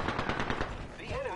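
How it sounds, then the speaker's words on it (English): Rapid automatic gunfire from enemies in Apex Legends rattles in a quick burst, then gives way to a voice speaking. "The enemies are shooting."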